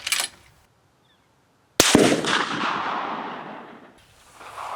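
Rifle shots from a Remington 700 at an outdoor range: one loud crack, then silence, then a second sharp, close report with a long echoing tail.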